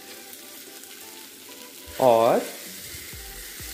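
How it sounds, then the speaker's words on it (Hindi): Mashed boiled potatoes are stirred into sizzling masala with tomatoes in a pan, a steady fry hiss with soft scraping, and someone briefly speaks in the middle. "इसे मैं प्रॉपरली मसालों के साथ मिला देता हूँ।"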